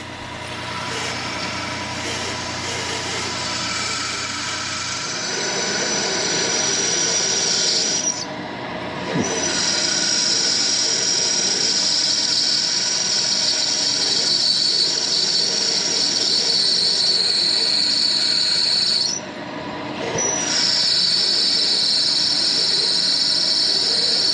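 A steady high-pitched whine from a drill press with a bent drill bit cutting into metal for a steam engine part runs throughout, with a low mechanical hum and two brief pauses in the squeal.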